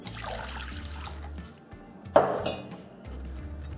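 Lukewarm water pours into a kneading bowl for potato pide dough in a brief splashing gush, stopping and then resuming with a sharper burst before settling into a quieter trickle.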